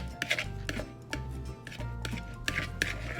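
Eggs being quickly stirred with seasonings in a bowl for egg salad, a few sharp utensil clicks and scrapes over a low background hum.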